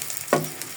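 Onions with black pepper, cardamom and cinnamon frying in a pan for khichuri; a single brief stirring scrape rises over a soft, steady sizzle.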